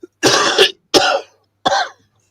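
Three sharp, loud coughs in quick succession, each a harsh burst with brief pauses between them, close to the listener.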